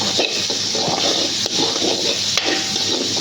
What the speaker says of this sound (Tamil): இறால் குக் ஆகிற அளவுக்கு தண்ணி ஊற்றிக்குவோம்.